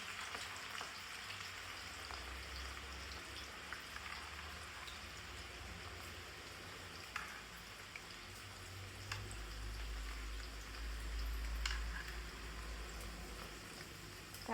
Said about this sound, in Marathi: मी तळते मिरच्या कारण आपल्याला हिरव्या मिरच्या करायच्या म्हणून मिरच्या तळतीये